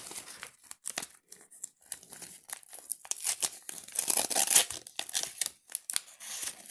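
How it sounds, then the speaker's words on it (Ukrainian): Crinkly plastic being torn and crumpled in a run of short, sharp rips and rustles, close and fairly loud, with no talking. "Так, перше відкриваємо пакетик."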